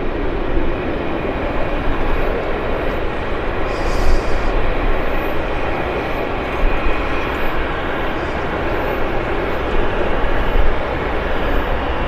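A Bombardier Q400 turboprop airliner approaches at Vancouver Airport, its steady broadband engine roar loud and continuous throughout, holding a constant drone with no pause.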